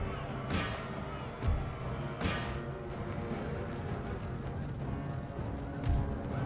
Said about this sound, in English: Get my regiment of horse in against that unit of Warrior Society.